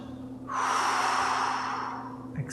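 A single deep inhalation taken through the nose during a yoga breathing exercise: one long, close, airy breath that rises after a brief pause, holds steady for well over a second, then fades.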